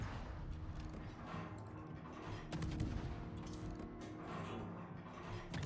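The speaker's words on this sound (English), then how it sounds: "The only way we're gonna spot these guys is if they shoot like that." Gunfire from enemy ships in a naval video game, a dense rattle of distant cannon and gun bursts over a constant mechanical engine drone, with a louder cluster midway.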